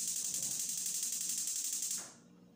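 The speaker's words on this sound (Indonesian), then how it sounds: "Mau saya nyalain apinya." A gas stove burner hisses steadily with a faint rapid pulsing as it is lit, close and continuous, then the sound drops away and quiet follows.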